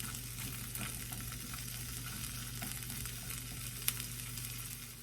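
A cup of chickpeas toasts in a hot pan, giving a steady, close sizzle and crackle with occasional stirring scrapes and one small sharp pop, with no talking.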